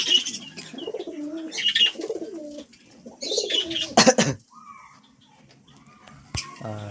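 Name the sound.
pigeons cooing in a loft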